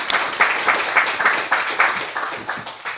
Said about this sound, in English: So with a round of applause, can we welcome Tayla to the stage?